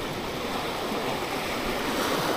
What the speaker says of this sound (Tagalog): Let's go to the wave of Siargao.